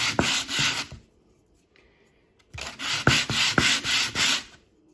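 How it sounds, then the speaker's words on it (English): A sanding board rubs back and forth along the straight edge of a piece of bark, in short bursts of rhythmic rasping strokes with a pause between them. "Get your sanding board."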